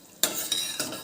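Homemade winter skin oil warming in a pan, stirred with a utensil: a soft sizzle bursts in suddenly, with two further scraping stirs landing in quick succession over about a second, close and fairly quiet.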